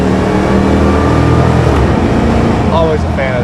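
Supercharged 5.4-liter 2000 Ford SVT Lightning pickup with automatic transmission pulling hard after a downshift, a loud steady engine drone heard from inside the cab, with a voice speaking briefly near the end.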